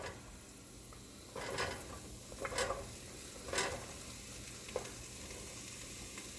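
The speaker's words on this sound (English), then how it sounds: "going to throw a little bit of minced garlic into my warm pan. There we go. And now we're going to go ahead and add our celery" Minced garlic and celery sizzle in a warm pan for homemade vegetable soup. A steady fry hiss runs throughout, broken by a few louder bursts as the pieces are stirred, with no talking.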